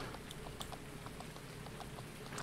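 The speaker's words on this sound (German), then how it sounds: "Das ist interessant, den Hof mal bei Regen zu beobachten." Rain falls steadily on a farm in the Landwirtschafts-Simulator 19 farming game, a continuous soft patter with scattered light droplet ticks, moderately quiet and even, with no talking.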